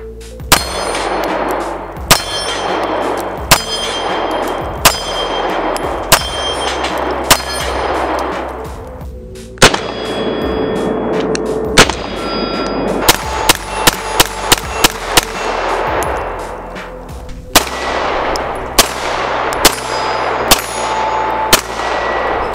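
Dan Wesson Specialist 1911 pistol fired at a steel dueling tree: loud, sharp shots ring out in quick irregular bursts, each followed by a bright metallic clang of struck plates, with a fast string of rapid hits midway.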